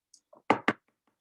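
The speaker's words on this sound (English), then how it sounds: "Shall we knock? How do we knock virtually?" Two sharp, close knocks on a door ring out together, framed by a few lighter taps before and after, with no talking in between.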